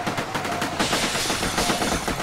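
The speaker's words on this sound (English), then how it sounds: "I thought I just shot him in the face" Rapid bursts of gunfire from the video game Sub Rosa, a dense, loud volley of shots that rattle continuously through the whole stretch with no voices over them.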